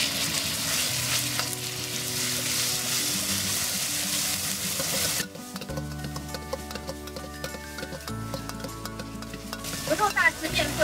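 Beef tossed into a smoking-hot wok with green and red peppers and scallion, sizzling loudly and continuously, then dropping to a quieter crackle with spatula scrapes and clinks as it is stirred.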